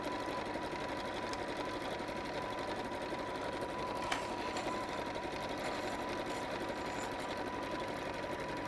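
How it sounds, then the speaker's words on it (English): A sewing machine stitches through polyester wadding in one steady, continuous hum with a fast rhythmic chatter, close by and at moderate volume, with no talking. "when you sew into it you get some really nice deep stitches"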